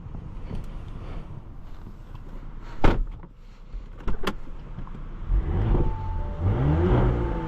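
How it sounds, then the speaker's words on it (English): A 2022 Audi S5 3.0T Sportback engine revs up in a couple of rising surges near the end, preceded by interior clunks and a whirring power window. "Some revs."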